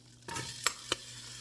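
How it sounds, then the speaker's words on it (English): Onions dropped into a hot frying pan for beef stroganoff set off a brief burst of sizzling, with two sharp clicks of utensil on pan rising above the steady hiss. "I'm gonna put the onions in."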